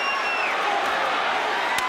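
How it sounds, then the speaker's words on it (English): A boxing arena crowd roars continuously after a hard-fought final round, a dense, steady wash of cheering with no breaks across the short span. "The crowd is on its feet."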